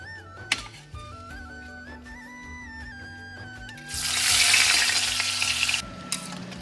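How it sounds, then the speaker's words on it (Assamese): Fish sizzles and fries in a pan with soft stirring and utensil clinks, then a louder hissing burst rises for a couple of seconds before settling back to a quiet sizzle. "এইফালে মাছ ফ্ৰাই কৰি আছোঁ দেই।"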